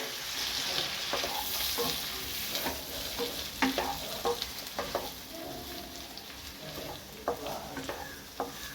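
Vegetables and onion for a bread noodle sandwich filling frying in a pan, a soft steady sizzle with frequent light clacks and scrapes of a spoon stirring, fairly quiet and without voices.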